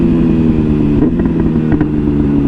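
A 2024 BMW M1000R motorcycle engine roars loudly and close, holding a strong, steady revving note throughout the short burst.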